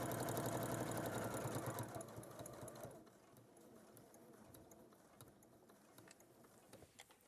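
A sewing machine runs in a steady, close whirr while stitching around a fabric corner, loud at first and then easing to a quieter, slower stitching after a few seconds, with no talking.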